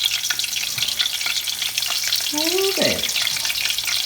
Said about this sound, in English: Listen to that sizzle dizzle.